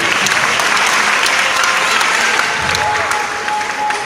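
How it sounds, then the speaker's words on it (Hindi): Loud, dense applause from a theatre audience at a Hindi Jain play, a steady wash of many hands clapping with no break, close and full across the whole stretch. "जोरदार तालियां बजाइए"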